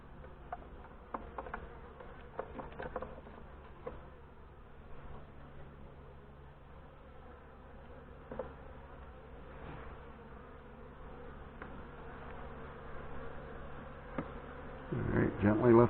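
Honey bees in a queenless hive starting to buzz near a frame of stored sugar water, a faint low hum with scattered clicks and handling knocks, louder rustling at the end.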